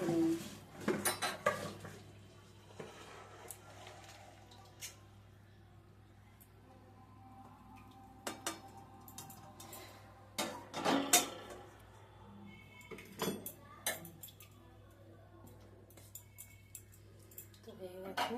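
Cooked soya chunks are spooned from a pan into a dish after the gas is switched off, with scattered clinks and scrapes of utensils against metal and a quiet background between bursts.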